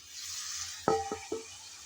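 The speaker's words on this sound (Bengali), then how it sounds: "টমেটো দিয়ে আবারও নেড়েচেড়ে ভালোভাবে কষিয়ে নেব।" Tomatoes are stirred into a frying spice masala for rupchanda fish. A soft sizzling hiss runs under three quick spoon scrapes and clinks against the pan.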